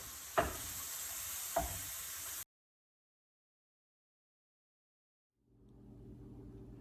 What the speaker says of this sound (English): I do love preparing my ground beef with my favorite tool in the Pampered Chef kitchen, the mix and chop